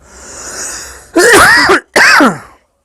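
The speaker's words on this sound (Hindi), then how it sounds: "खांसी की वजह से मैं बहुत परेशान हूँ" A man with a troubling cough lets out two loud, harsh, throaty coughs in quick succession, close to the microphone, after a moment of quiet background hiss.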